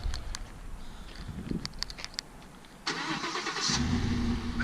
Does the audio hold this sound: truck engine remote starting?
yes